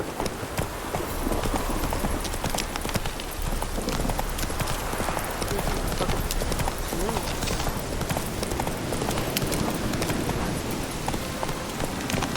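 Roach the horse gallops in The Witcher 3, a steady rapid clip-clop of hooves running continuously beneath a rain-like patter of ambient noise.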